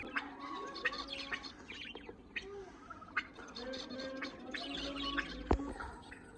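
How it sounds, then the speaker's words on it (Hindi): Pet cockatiels give repeated chirps and short whistling calls at moderate distance, mixed with other fowl-like calls and occasional sharp bursts over a steady background. "मुझे सबसे ज्यादा प्यारी आवाजें लग रही है इस टाइम हमारे कॉकटेल जो आवाजें निकाल रहे हैं ना"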